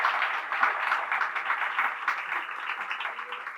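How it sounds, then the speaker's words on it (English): An audience at a university panel event applauds steadily, a muffled, even wash of clapping that carries on throughout without anyone speaking. "thank you for the generous applause"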